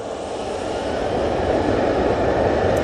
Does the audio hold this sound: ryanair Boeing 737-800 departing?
yes